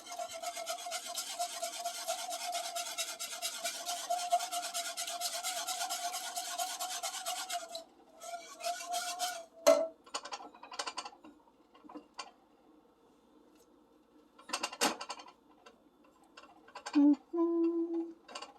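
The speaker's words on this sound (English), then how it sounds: "we're going to put that right in there, whisk it in." Shredded mozzarella and cheddar being whisked into a sauce, with a continuous rapid scraping rasp for several seconds, followed by intermittent stirring strokes, a few knocks and short clanks against the pot.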